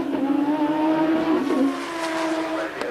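A Formula 1 V6 turbo race car accelerates at full power out of a hairpin onto the pit straight, its engine note climbing steadily and loud with a brief gear-change dip, while a commentator talks over it.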